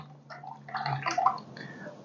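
A mop paintbrush is swished and rinsed in a water jar, giving a short close burst of sloshing, gurgling water against a low steady hum.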